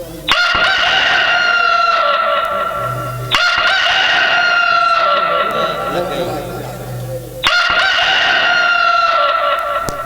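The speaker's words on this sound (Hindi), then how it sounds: "जैसे ही मुर्गा ने बांग लगाई" A rooster crows three times in a row, loud and close, each call a long ringing cry separated by brief gaps, with a low murmur in the background.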